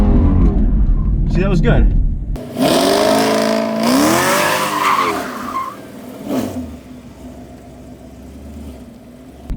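A car revs hard and spins through donuts, engine roaring with tires skidding and squealing in a loud burst, while people chatter and cheer excitedly over and after it.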